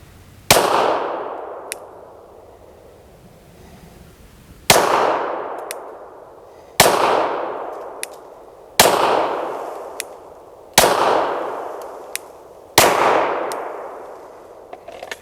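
Six sharp pistol shots ring out at irregular intervals, each a loud crack with a ringing clang from a steel target and a decaying tail, with faint metallic pings between.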